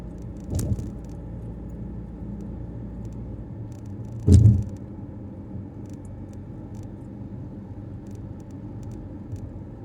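A car drives in heavy road traffic on King Fahad Road in Riyadh, a steady low engine and road rumble with a couple of brief rattling thumps, no talking.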